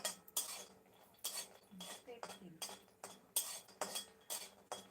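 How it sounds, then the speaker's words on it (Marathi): A spoon scrapes and clinks against a pan as a makhana dish for babies is served onto a plate, giving a run of close, irregular metallic taps and scoops with short pauses between them. "आता मी डिशमध्ये काढते"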